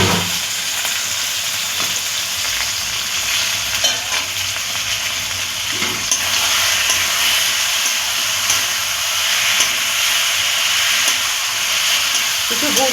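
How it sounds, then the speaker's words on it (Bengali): Chicken pieces sautéing in spiced oil for capsicum chicken, giving a steady, loud sizzle and frying hiss close up, with occasional stirring scrapes throughout. "এবার আমি চিকেনটা দিয়ে দিচ্ছি। তেল ছেড়ে দিয়েছে মশলা থেকে, দিয়ে এবার এটা খানিকক্ষণ আমার কষতে হবে।"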